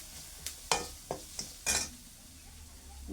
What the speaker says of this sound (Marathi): आणि आता ही बारीक केलेली फुलं आपण यामध्ये टाकू. भाजून घेऊ.